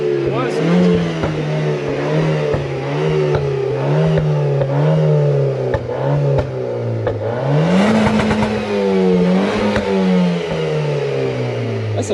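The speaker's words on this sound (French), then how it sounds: "on entend le régime qui change" A Renault Clio 4 RS engine in sport mode drones steadily inside the car, with its pitch shifting as revs rise and fall, while people talk over it.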